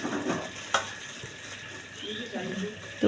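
Tempe, tofu and chicken frying in hot oil, a continuous crackling sizzle with a few sharp clanks of a utensil against the pan.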